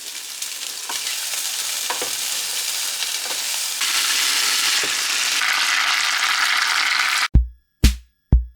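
Food sizzling steadily in a frying pan at a restaurant near Strasbourg, a close, loud hiss with scraping stir strokes, ending in a few sharp knocks of the utensil.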